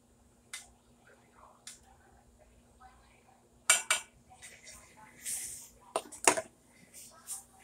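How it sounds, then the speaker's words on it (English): A spoon stirs a coconut oil and cannabis infusion in a cooking pot, giving scattered metallic clinks and scrapes, a few sharper clanks, over a quiet, steady background hum. "We're going to give it a stir."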